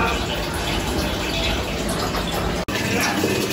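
Water pours steadily into a fish tank for an arowana, a loud, constant rushing fill with a brief interruption near the end.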